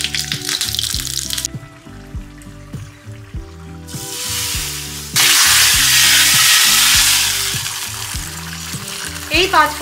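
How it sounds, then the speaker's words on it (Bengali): Green chillies and panch phoron spluttering in hot mustard oil, loud crackling sizzle that comes in bursts and swells louder near the end, with rhythmic low knocking and clatter from stirring throughout. "সর্ষের তেলের মধ্যে অ্যাড করছি কাঁচা লঙ্কা আর 5 ফোড়ন।"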